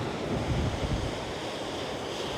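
Strong wind and sea waves wash against rocks on the coast at Khao Laem Ya National Park in Rayong, a loud, continuous roaring rush with a swell of surf early on.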